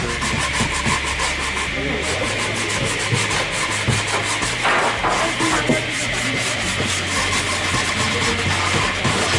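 Steady rhythmic rasping of sandpaper rubbing across wood, close and continuous, with a faint voice briefly under it.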